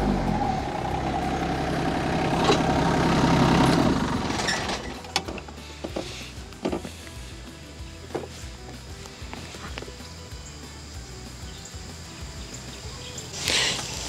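A tractor engine drives a post hole digger auger in dirt. A steady, low, rumbling drone swells for several seconds and then eases, leaving scattered knocks and clunks over a quieter idle.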